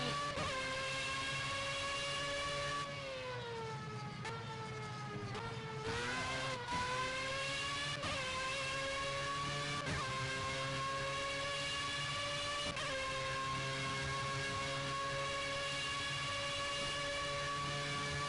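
A race car engine held at full throttle in the Project Cars racing game, a loud continuous high-pitched drone that dips and climbs through several gear changes, steady and close with no talking.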